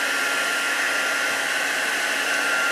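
A crafting heat tool blows steadily to dry ink on a card, a continuous even whirring hiss at moderate volume with no talk.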